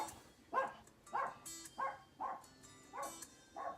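A dog barks six times in a slow, steady rhythm, each short bark clear and moderately close, with quiet room background between them.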